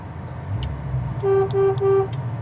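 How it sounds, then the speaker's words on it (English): Three short, loud toots from the horn of a 1961 Ford Galaxie, heard close over a low idling engine. "Horn works."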